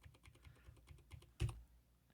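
Typing on a computer keyboard: a quick run of light key clicks ending in one louder thump, close and alone with no talk.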